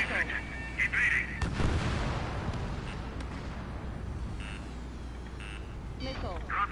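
Missile warning alert in the jet combat game Ace Combat 7, heard as repeated short electronic beeps over a low engine rumble and distant blasts.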